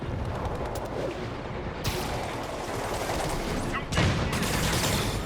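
Gunfire erupts at a rooftop outpost in Marvel's Spider-Man Remastered on PS5, a dense, sustained barrage of shots with sharper, louder bursts breaking through partway along.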